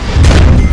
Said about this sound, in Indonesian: Pertempuran dibuka dengan tembakan senapan anti-tank dari tentara Uni Soviet